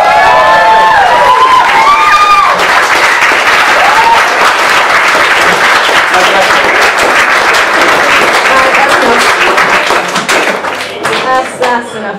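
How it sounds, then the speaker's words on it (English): A talk audience breaks into loud, sustained applause with scattered cheers and whoops, the clapping thinning out toward the end. "biggest round of applause you've ever done"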